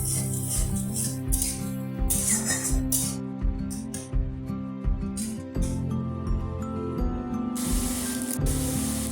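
Masala sizzles loudly in a pan after a splash of water while bottle gourd kofta curry is being cooked, a steady close hiss and spatter that goes on without a break.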